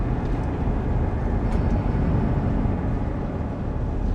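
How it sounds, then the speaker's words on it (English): A Class 45 diesel locomotive in the Train Sim World game rumbles and drones steadily and loudly, hauling a passenger express near Huddersfield, with a dense low engine roar filling the whole stretch and no voices. "So this is a very loud train"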